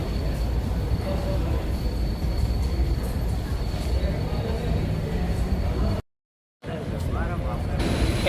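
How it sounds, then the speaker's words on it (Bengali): A passenger train pulls into Ranchi station at night, its steady heavy rumble close and continuous, with indistinct voices underneath and one brief dropout near the end. "তো আমাদের ট্রেন 11টায় ঢুকলো"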